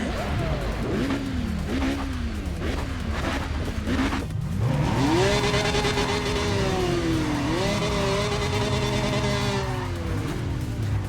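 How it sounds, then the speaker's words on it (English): A racing car engine roars loudly in Need for Speed ProStreet, revving up and down through several quick gear changes before holding a long high-pitched wail. Tire squeal and skidding noise mix in with the engine. "It seriously sounds like a Porsche"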